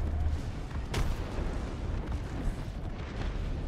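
Grenade blasts in Apex Legends, a sharp crack followed by a low, rumbling roar of explosions and debris that stays dense and heavy throughout.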